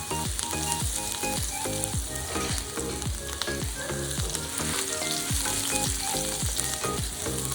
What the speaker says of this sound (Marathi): हे मेल्ट झालं की आपण ह्यामध्ये टाकणार आहोत अख्खी एक लसणाची कांडी, ठेचून घेतलेला आहे इथे लसूण